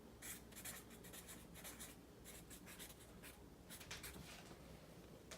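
Pen writing on paper in a quiet room: a series of soft, scratchy strokes in short bursts with brief pauses between them, close and faint, with no voices.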